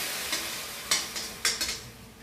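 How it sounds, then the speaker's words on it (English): Tomatoes stirred into sautéed garlic in a pan: a steady close sizzle and hiss with a few soft scraping stir strokes rising above it. "You can hear the stirring"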